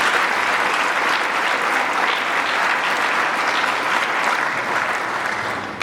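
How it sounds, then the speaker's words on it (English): Audience at a middle school all-region band concert applauds in a loud, continuous wash of clapping that stays level for several seconds before cutting off. "So let's give her a round of applause."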